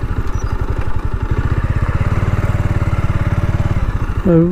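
A motorcycle engine thrums in a steady, rapid, close-up putter while riding along a village road past fields, with a brief tonal sound near the end.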